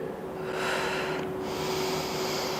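Steady, airy breathing in and out during a back-stretching exercise, loud and close to the mic, with a constant faint hum underneath and no talking.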